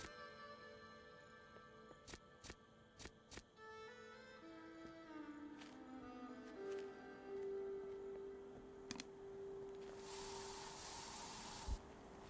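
In the video game I Am Future, a long-range dew sprayer gives a brief, bright hiss burst of about a second near the end, over soft plucked game music and sparse clicks.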